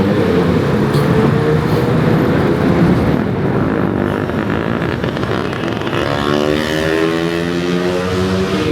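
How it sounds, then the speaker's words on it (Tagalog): Motorcycles ride through a flooded street on Osmeña Extension in Cagayan de Oro, their engines making a steady, loud rumble mixed with rushing water, and one engine's drone stands out more clearly near the end. "Mga padagag motor"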